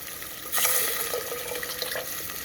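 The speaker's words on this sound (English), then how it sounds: "now I'm going to add my chicken broth" Chicken broth poured into a pot of pasta fagioli, a sudden close splashing gush that settles into a steady liquid pour lasting a couple of seconds.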